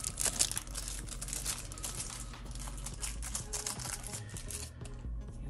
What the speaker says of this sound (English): Take it out of the plastic.